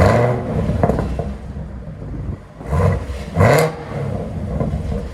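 A 2017 Chevy Camaro ZL1 with stock exhaust rumbles at idle and then gives two sharp, deep throttle blips that roar up and fall back, close by and loud.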